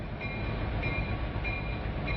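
A long freight train of oil tank cars, up to 118 wagons, rolls past a port terminal with a loud continuous low rumble and faint periodic high squeals from the wheels.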